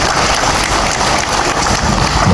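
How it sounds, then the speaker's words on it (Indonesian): An audience claps loudly throughout at an official staff farewell and welcome ceremony in Surabaya, a dense, close, continuous burst with no break. "Tepuk tangan buat kita."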